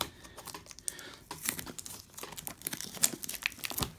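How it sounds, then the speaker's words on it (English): Plastic wrap is torn and crinkled off a Yu-Gi-Oh card box close up, a quiet run of irregular crackles, rips and rustles with no talking. "So I'm gonna get the plastic off, and then we will get started."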